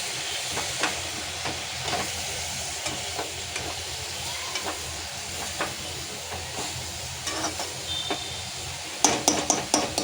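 Cowpea leaves sauté in a pan over a high gas flame, giving a steady sizzling hiss with frequent scraping and stirring clatter from a utensil, the stirring getting sharper near the end, and no one talking.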